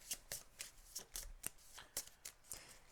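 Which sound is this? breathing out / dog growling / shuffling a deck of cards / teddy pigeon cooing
shuffling a deck of cards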